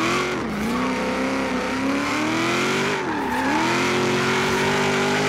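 A GMC Vandura van fitted with an SS engine revs hard in Forza Horizon 3, a loud, continuous engine drone that rises and dips in pitch through two throttle swells, with no talking over it.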